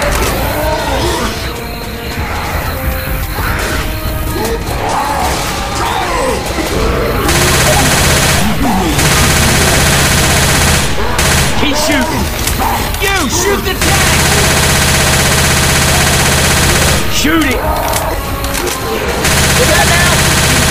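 Left 4 Dead 2 gameplay on the Dark Carnival campaign: loud, sustained automatic gunfire in long bursts with short pauses, under excited shouted talk from players.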